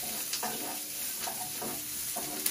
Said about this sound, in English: Followed by my ginger and my garlic. And I'm gonna give that a good stir.